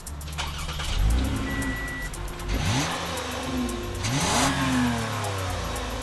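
A 2015 Toyota Camry XSE's 268-horsepower 3.5-liter V6 revs up and accelerates repeatedly, pitch climbing through automatic gear changes, steady and fairly close with no voices.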